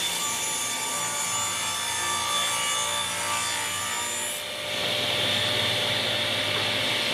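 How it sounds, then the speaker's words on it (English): Table saw cutting plywood for a box joint jig fence: a steady, loud whirring blade hum with rough rasping as the wood feeds through, rising to a harsher cut partway along. "I'm going to cut the fence for the part of the jig that you'll be holding on to, and I'm just using some more of that same kind of plywood."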